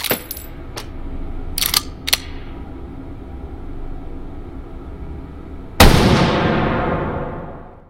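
Rifle shots from a World War I American infantry weapon in a VR game: a few sharp cracks early on, then one loud close report that rings out and slowly fades.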